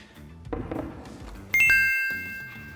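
A phone's text message notification rings out as a single bright chime after some faint rustling and knocks, its tone ringing on and slowly fading.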